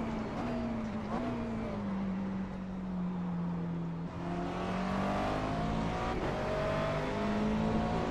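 Race car engines whine and rev in the iRacing sim at the Daytona 24 Hours night stint, pitch sliding through gear changes as cars pass close, steady and continuous without talk.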